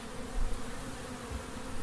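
Honey bees fill an open Long Hive with a steady, dense buzzing drone, close and continuous, swelling slightly now and then with no voices.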